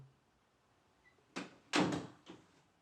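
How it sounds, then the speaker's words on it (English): A door is pushed shut with a quick scrape and swing followed by a loud solid thud and a softer settling knock, against an otherwise quiet room. "Shut the door, Mortimer."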